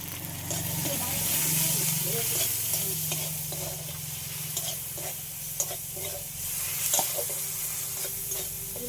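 Spices with salt and turmeric fry in a pan, giving a steady sizzle and hiss with soft stirring and scraping. A low hum runs under the first few seconds, and faint voice sounds come in here and there.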